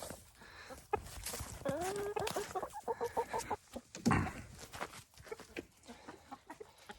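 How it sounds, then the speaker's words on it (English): Several hens cluck and squawk close by on a winter homestead, a busy run of short bursts with a brief sing-song call in the middle. "Oh, chickens, who wants a treat?"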